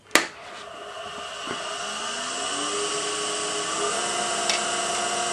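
A spindle roughing gouge cuts a wine stopper blank spinning on a wood lathe, giving a sustained whirring, hissing cut that holds steady after a sharp knock at the start, near and loud, with no talk.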